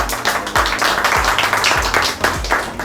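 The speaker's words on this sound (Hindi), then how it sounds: "तो सृजन सर के लिए एक बार फिर जोरदार तालियां" Applause at a New Year party after a motivational speech, a burst of clapping from a gathered audience with a few sharper, rhythmic hand claps standing out near the listener.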